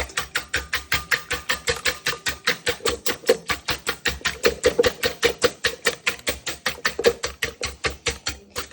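Fast, steady rhythmic tapping and clicking of a whisk against a bowl, dozens of even strokes close by with no talking.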